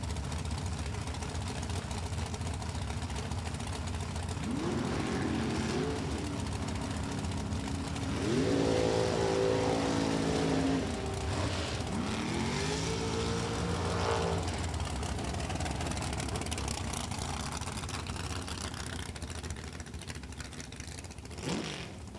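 Super Comp drag race cars, including a 632 cubic inch Chevrolet-powered car, rumble at a lopey idle before rising revving sweeps, a steady loud engine drone throughout with a few climbing bursts.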